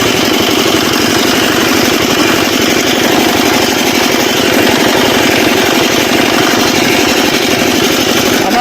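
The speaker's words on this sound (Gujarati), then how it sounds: "આ રીતે આગળ પણ ચલાવી શકાય અને આવી રીતે પાછળ પણ ચાલી શકે એન્જિન" A small homemade tractor engine runs steadily at close range, a loud, rapid chugging rattle that continues without pause and with no voices.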